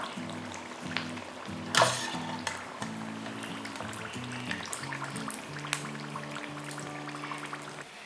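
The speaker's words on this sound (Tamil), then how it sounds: "நல்லா ப்ரௌன் ஆகிற வரைக்கும் நம்ம ஃப்ரை பண்ணிக்கணும்" Chicken keema samosas deep frying in hot oil, a steady soft crackle and sizzle running throughout, close and moderate in level, with a brief louder bubbling burst early on and a low tonal hum underneath.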